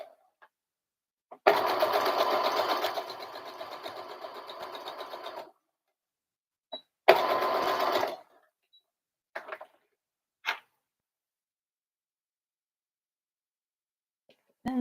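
A sewing machine stitches pleats on a little girl's dress, running in a long steady burst, then a shorter second run, followed by a few faint clicks and handling noises.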